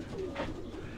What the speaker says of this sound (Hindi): ये भी सियालकोट की बड़ी जबरदस्त ब्रीड अली वाले कबूतर